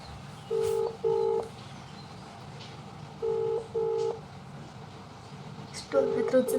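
An outgoing phone call rings back over a line in repeated double beeps, two pairs with a gap between them and a third starting near the end, playing quietly over low room hiss.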